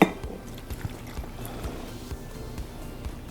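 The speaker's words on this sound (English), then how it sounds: "I'm just going to pour it over our ingredients here and then seal it with a mason jar." High-proof alcohol poured over ingredients in a mason jar, a steady liquid trickle with small gurgles and splashes, close up and without talk.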